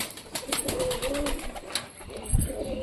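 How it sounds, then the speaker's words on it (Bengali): A High Flyer pigeon coos softly and close by in a short low burble, over a steady rustling background. "সুন্দর পায়রাটা"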